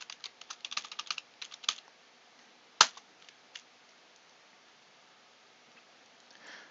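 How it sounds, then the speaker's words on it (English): A username and password are typed on a computer keyboard. Quick close keystrokes come in bursts, then one loud clack and a few scattered presses before it goes quiet. "Just type in my username, and then the password."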